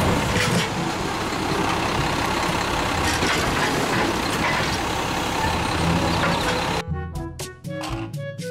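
A toy garbage truck gives off a loud, continuous engine-like rumble and hiss that cuts off abruptly near the end, leaving a few sharp clicks.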